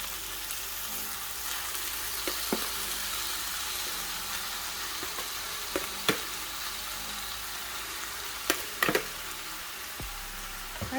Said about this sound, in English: I'm going to add in that tuna now.